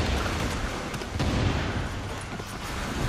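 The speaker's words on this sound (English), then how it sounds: "Grenade out." Grenade blasts and battle noise fill a firefight in the shooter game The Division, a rough, continuous rumble with dull booms and scattered sharp cracks, loud and close with no talking.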